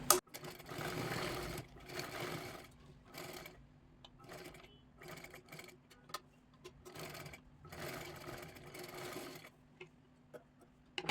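A sewing machine runs a double line of stitching on a blouse in quick bursts, whirring for a second or two at a time with short pauses between runs, close and fairly quiet.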